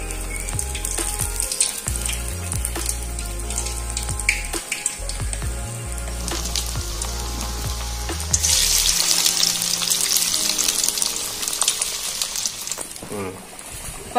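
Prawn vadai fries in hot oil, giving a close, steady sizzling hiss that swells louder in the second half. A voice talks over the opening moments.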